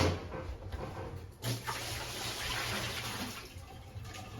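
Fresh water pours steadily into a gold recovery pan, a soft continuous splashing rush with a faint clink near the start.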